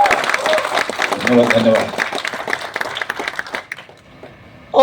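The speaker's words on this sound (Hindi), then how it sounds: "थोड़ी दमदार तालियां बजा दें" A crowd applauds at a Patna promotion event for the film Bhaiyya Ji, dense clapping for about three seconds that thins out, with a voice speaking over it.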